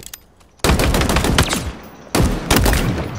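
Bursts of rapid automatic fire from the Commando rifle in Halo Infinite, two loud sustained volleys with a pause between, heavy and dense, with no talk over them.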